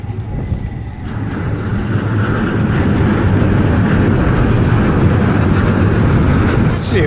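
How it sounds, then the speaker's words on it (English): Train rolling across a bridge in Porto, a broad rumbling roar that swells after the first second and holds steady and fairly close, with faint background activity. "The train."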